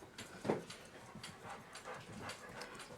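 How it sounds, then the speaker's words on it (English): Two 70-pound dogs wrestle in a room during clock repair work, giving off panting, a short whimpering yelp and shuffling scuffles, moderately near and fairly faint, with no talking. "Two 70-pound dogs wrestling behind you."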